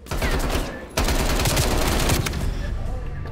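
Automatic gunfire from Call of Duty Black Ops Cold War, with rapid loud close bursts, a short gap near the first second, then sustained rattling fire that fades slightly at the end.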